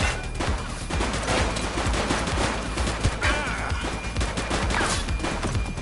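Rapid gunfire in The Precinct video game, a dense run of loud overlapping shots and bursts crackling continuously with a crash-like clatter mixed in, close and sustained with no gaps.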